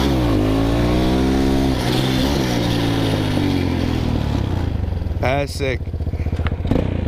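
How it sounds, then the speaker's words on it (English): Motorcycle engine revving hard while the rider holds a wheelie leaving a parking lot, a loud close roar with rising and falling pitch and a sharp throttle blip near the end, with a voice speaking briefly over it. "I did just want to ride a good fat wheelie though in this bitch."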